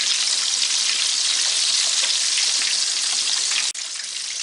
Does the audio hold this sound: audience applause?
no